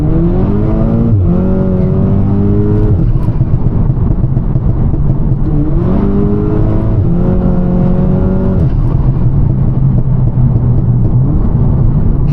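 An Audi S3 accelerates hard along a country lane, its engine loud and close, climbing through the revs in repeated surges with gear changes, then settling into a steady drone.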